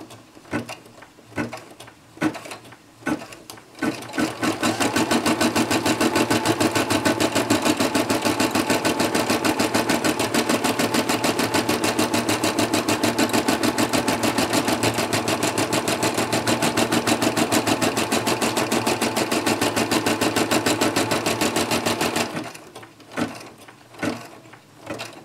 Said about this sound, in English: the first thing we're going to do is we're going to actually stitch out the placement for this